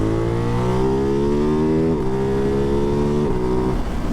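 A Ducati Hypermotard 698 Mono single-cylinder with a Termignoni exhaust accelerates hard. The engine note sits loud and close and climbs steadily, with two brief dips as the gears shift. No one speaks.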